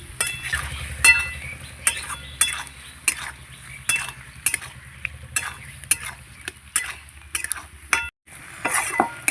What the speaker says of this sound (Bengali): এবার আলুর সঙ্গে খুব ভালো করে মশলাগুলো কষিয়ে নিতে হবে।